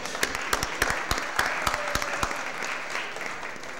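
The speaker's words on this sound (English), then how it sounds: "So let's give Courtney a round of applause." Applause at a St. Louis Board of Aldermen meeting for a guest, with several sharp, loud nearby claps standing out over a dense round of clapping that fades toward the end.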